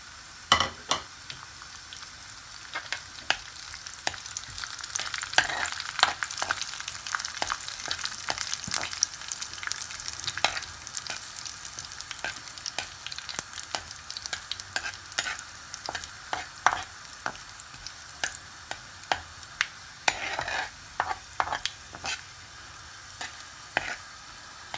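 Cumin seeds, curry leaves and chilies crackle and sizzle in hot tempering oil for dahi phulkiyan, a continuous close frying hiss with sharp pops and occasional stirring scrapes, no talk.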